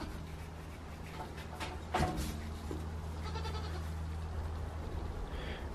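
Goats bleating on a farm, several faint to moderate calls over a steady low rumble and rustling, with one louder thump partway through.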